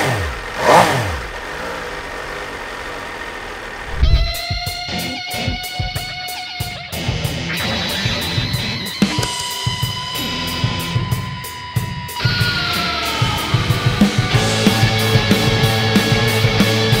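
An MV Agusta F3 675 sport motorcycle starts with a cranking whir, catches and idles, then its engine is blipped through a series of sharp, rising revs that fall back between bursts, loud and close.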